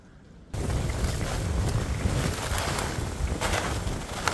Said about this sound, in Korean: 이거 바람이 세게 불고 있습니다.